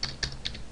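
A few quick, close keystrokes click on a computer keyboard in a brief burst, with no voices.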